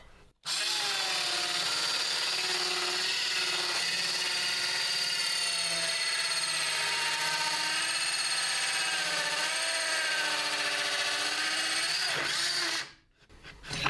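A Parkside PHKSA 12 B3 cordless circular saw runs through a cut in wood for about twelve seconds, a loud, steady high-pitched whine with slight wavering, stopping abruptly near the end.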